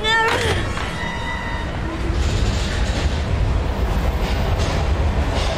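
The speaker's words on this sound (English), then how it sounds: "We've gotta get on that train, Ethan." A train in the video game Heavy Rain rumbles and rattles continuously in a low, heavy roar, with a brief high metallic squeal at the start; a voice talks over it.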